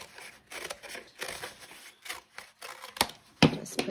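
Scissors trim around the edge of a craft cone for a Christmas gnome, giving a run of quick, close, soft snips and rustling paper or fabric cuts, irregular and fairly quiet, with no talking.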